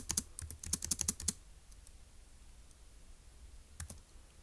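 Close keyboard typing: a rapid run of crisp key clicks for about a second, then quiet, with a couple of light taps near the end.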